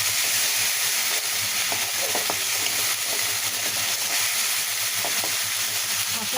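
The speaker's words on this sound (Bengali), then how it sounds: "আর পেঁয়াজ দিয়ে হলুদ মরিচ দিয়ে মশলাটা ভালোভাবে কষিয়ে নিচ্ছি" Onion paste with turmeric and chili masala sizzles steadily in hot oil, cooked down before bottle gourd goes into the pan. The hiss is continuous and fairly loud, with faint stirring clicks and no voices.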